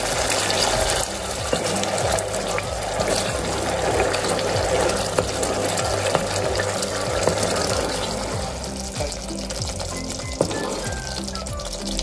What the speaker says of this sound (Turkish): Hemen üzerine takriben 1 su bardağı kadar kaynar su ekliyorum.